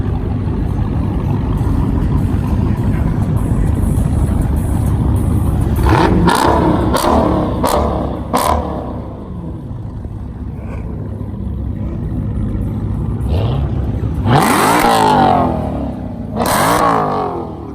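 A WK1 Jeep SRT engine rumbles loudly and steadily, then surges in sharp revving bursts toward the end, with a few brief clicks in between.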